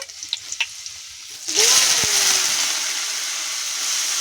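Garlic and tomatoes hit hot oil in a pan, giving a sudden loud sizzle that settles into a steady frying hiss, with a few stirring clinks just before.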